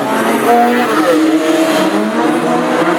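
Classic hot rod race cars pack together at the Aldershot oval on a slippery track as racing begins after the pace car pulls off, a dense, continuous roar of several engines heard close and loud.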